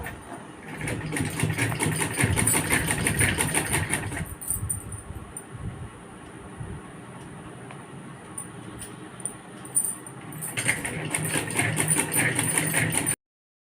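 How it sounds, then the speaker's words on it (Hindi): A sewing machine stitches denim for a mobile phone cover, a loud close rapid rattling whir that eases into a quieter hum midway before picking back up to full speed and cutting off abruptly. "ऐसे करके मशीन में रख के ऐसे सिलाई करिए आप इसको पहले।"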